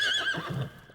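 A cartoon horse lets out a short, bright whinny that wavers and drops in pitch, close and clear with no talk over it.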